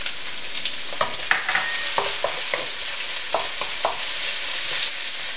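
Pork stir-fried in a wok with scallion, ginger and ground pepper: a steady sizzle broken by a series of sharp scraping and clattering strokes of the spatula, close and fairly loud.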